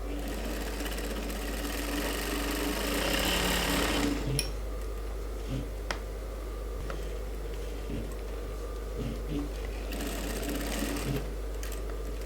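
A sewing machine stitches a women's suit in steady runs of rapid mechanical clatter, stopping and restarting with a few sharp clicks and knocks between bursts.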